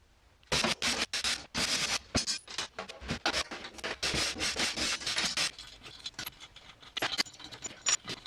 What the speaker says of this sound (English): So I'm taking it apart so I can use all the hardware on that drum